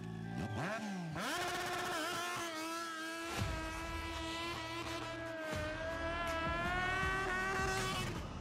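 A motorcycle drifting on a track in a gymkhana-style run, engine revving high and rising steadily in pitch, sustained and close, with a brief dip and surge as the bike slides through the turn.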